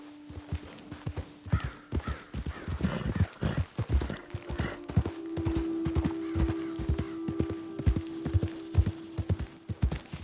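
Horse hooves clip-clop steadily in Red Dead Redemption 2, a repeated close rhythmic clatter lasting throughout, with crow caws and a sustained tone in the background.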